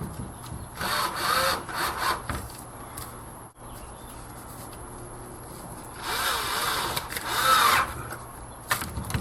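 Hose clamps being cinched tight around a glued bamboo and purpleheart bracelet blank, heard as two bursts of whirring power-driver noise with a quieter stretch between them.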